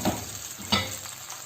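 Ginger and garlic frying in a pan with tomato puree, a steady sizzle with a couple of soft stirring scrapes, close and alone with no talk.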